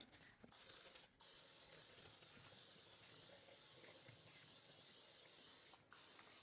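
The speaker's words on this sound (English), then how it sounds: "I'm going to spray it with Pam." Butter-flavored Pam cooking spray hisses steadily into a shallow baking dish, one continuous loud spray of about five seconds broken by brief pauses near the start and end.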